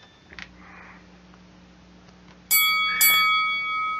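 Two bright notification bell chimes ring out in quick succession, loud and close, each leaving a shimmering tonal tail after a quiet stretch with a faint soft sound.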